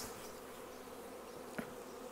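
Steady, faint hum of a honey bee swarm colony in Canada, bees busily bringing in fresh pollen, a soft continuous buzz with one brief louder bee passing close.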